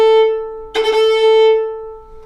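A fiddle bow dropped onto the string from above to play a cut, one clear sustained bowed note broken by a quick crisp grace-note articulation, close and solo.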